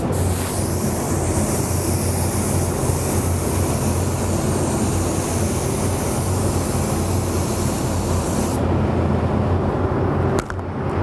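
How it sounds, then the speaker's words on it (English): An LPH 80 spray gun lays a steady, loud, continuous hiss of paint onto a panel, holding evenly for about ten seconds before cutting off abruptly near the end. "This is going to be one coat with my LPH 80."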